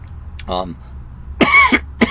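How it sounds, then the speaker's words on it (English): Two or three harsh coughs break out close to the mic, one short burst and then a louder double cough. "I got a cough now"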